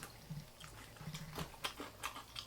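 Close, quiet chewing of raw fish sashimi, soft wet mouth sounds and small bites in an irregular rhythm, with no talking.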